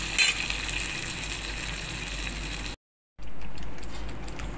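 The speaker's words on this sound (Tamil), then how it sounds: "இப்போ நல்லா கலந்து விட்டுக்கலாம்." Ground vallarai greens fry and sizzle steadily in an iron pan as they are stirred, a close continuous hiss broken by a brief silent gap, then resuming.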